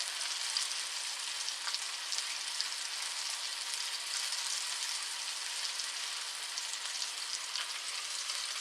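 Food browning in a hot pan as it gets flipped, an even, steady bright sizzle that holds without break at moderate loudness throughout.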